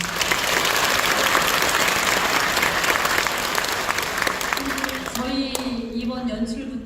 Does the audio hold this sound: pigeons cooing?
no